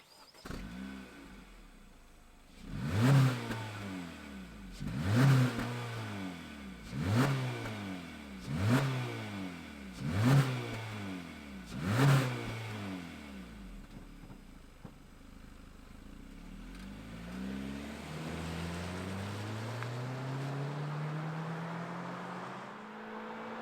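A 2023 Honda HR-V SUV's 2-liter engine idles, then revs sharply about six times in a steady rhythm before settling into a smooth, rising hum. The engine is close by.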